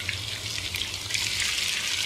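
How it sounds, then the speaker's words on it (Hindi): Water poured from a glass into a biryani pot of browned garlic-ginger paste and tomatoes, a steady close splashing pour running unbroken for about two seconds with no talk. "तो मैं इसके अंदर 1 गिलास पानी डाल देती हूँ"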